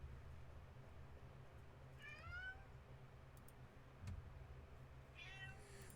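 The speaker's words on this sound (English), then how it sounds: "Come here, kitty." A cat meows twice, two short, rising-and-falling cries a few seconds apart, faint against a low indoor hum with no speech.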